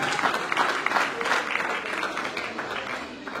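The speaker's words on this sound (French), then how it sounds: "si on peut applaudir pour elle" A crowd at a tribute at a national theatre applauds an actress, giving dense, sustained clapping that stays loud and even throughout, with a faint murmur of voices underneath.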